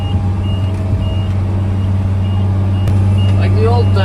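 A Cummins 8.3 diesel engine runs steadily under load on a farm tractor, with a loud continuous low drone and a rising whine near the end, while a person talks over it.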